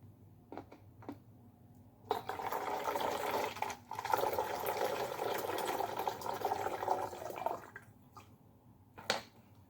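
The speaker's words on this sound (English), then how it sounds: "You can pour it out until it gets to the line." Water pours into a plastic bottle for a blobs-in-a-bottle experiment, a few seconds of steady splashing flow between light taps and handling noises.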